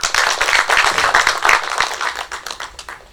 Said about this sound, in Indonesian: Yuk tepuk tangan buat mereka ya.